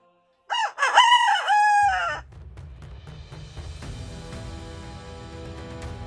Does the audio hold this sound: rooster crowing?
yes